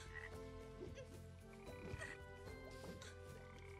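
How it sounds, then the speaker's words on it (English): A dart frog croaks in the Potions: A Curious Tale video game, low repeated croaks pulsing steadily over a constant layer of game music. "A dart frog."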